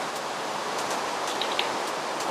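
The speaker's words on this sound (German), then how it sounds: "Regen, sehr gut." Rain in Minecraft gives a soft, even hiss with faint scattered patters, steady and quiet throughout the short stretch with no talking.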